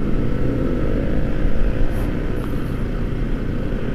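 Marcopolo bus engine roaring loudly at full throttle on a night road, a dense and steady droning rumble close by with no speech.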